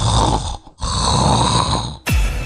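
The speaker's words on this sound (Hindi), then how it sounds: "किसी को सोने दोगे या फिर यूं ही कुंभकर्ण बने खर्राटे लेते रहोगे?" A cartoon character snores loudly in a comedic scene, with long rasping breaths broken by brief pauses, each snore a sustained rumbling drone close up.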